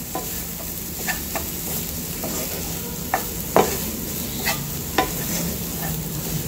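Momo filling of vegetables cooking in a pan, a steady soft sizzle with scattered scrapes and taps of a spoon stirring, one sharper clack midway, close and alone without any voices.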